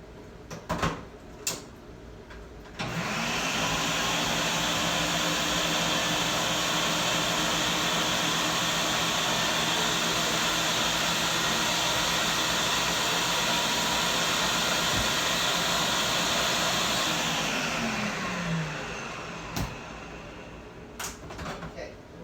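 A blender whirs steadily for about fifteen seconds, mixing an eggless aioli sauce made with mayonnaise, loud and continuous from start to stop, with a few faint knocks before and after.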